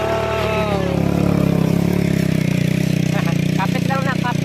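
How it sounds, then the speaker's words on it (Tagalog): A motorcycle engine drones loudly and steadily while riding near the sea, with people talking and calling out over it. "Lakas ng motor mga buddy."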